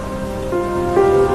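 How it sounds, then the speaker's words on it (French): Steady rain patters in a continuous wash, with a faint tonal hum running beneath it. "Et il a commencé à pleuvoir."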